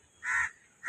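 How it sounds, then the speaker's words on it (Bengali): A single harsh caw from a crow, fairly close, followed by the start of another call. "বিভিন্ন রকমের পাখির ডাক কাকের ডাক শুনতেই পাচ্ছ"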